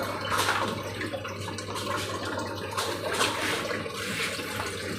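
A Samsung washing machine under repair drains water in a steady, rushing wash of sound with faint splashing and a low constant hum, continuous throughout.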